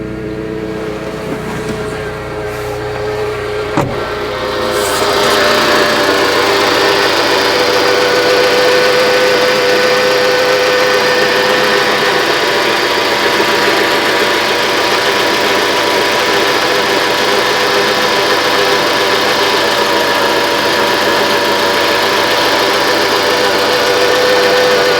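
1995 Mitsubishi Expo engine running after an overhaul: a brief starter crank, then a steady loud idle with a constant mechanical hum and faint ticking, close up and continuing for the whole stretch without talk.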